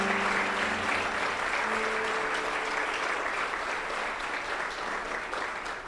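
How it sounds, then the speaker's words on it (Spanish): A church congregation applauds loudly and steadily for several seconds, a dense wash of clapping that fades slightly toward the end. "Yo le daría un aplauso fuerte al Señor por eso."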